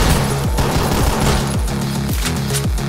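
Rapid bursts of gunfire in the video game OTXO, loud and continuous, with repeated low booming shots layered over constant firing.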